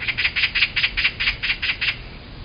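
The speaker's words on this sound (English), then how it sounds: "magpie" A magpie gives a harsh, rattling chatter of about ten rapid, evenly spaced squawks that stop abruptly, fairly close, with no voices.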